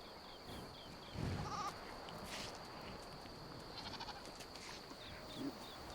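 Faint ibex goat bleats carry across the Simien Mountains cliffs, a few short distant calls over a steady windy outdoor hiss.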